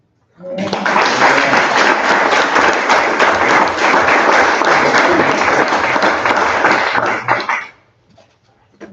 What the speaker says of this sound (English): I think we owe Chris a round of applause